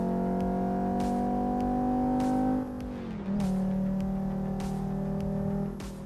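A car with a turbocharged five-cylinder engine drives along a commute road, a steady loud engine drone that dips briefly as it shifts, then resumes with rhythmic road thumps.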